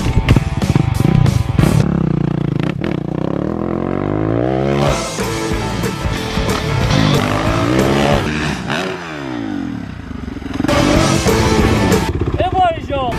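Motocross motorcycle ridden for freestyle jumps, its engine revving and roaring in bursts with a throttle blip and clatter, close and loud, while people talk and shout over it.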